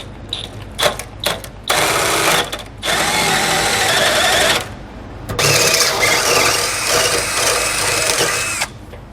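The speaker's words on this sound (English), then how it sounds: "take a 17/32 drill bit and we're going to drill out our holes" A power drill with a 17/32 bit whines loudly in two long runs, separated by short bursts and pauses, grinding steadily as it bores holes on a 2018 Mercedes-Benz.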